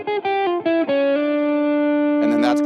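An altered dominant ii-V-I jazz line played on an effects-processed, slightly distorted instrument: a few quick plucked notes, then a long sustained tone held with reverb, followed by a brief flurry of notes at the end.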